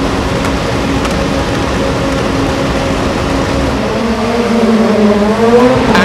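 Rallycross Supercar Lites race cars launch off the start at Estering, Germany, a loud, dense roar of engines building as throttles open wide, with rising revs toward the end.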